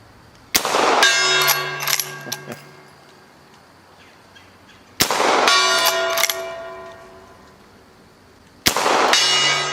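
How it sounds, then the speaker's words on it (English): Rifle shots from an 1860 Henry rifle ring a steel gong three times, each sharp crack followed by a long, bright metallic ring that slowly fades, with faint voices in between. "Oh, we haven't shot the gong."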